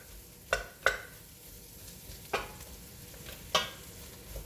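Aubergines and onions frying in a pan are stirred, giving a few sharp scraping clinks of utensil against the pan at irregular intervals over a soft, low background sizzle.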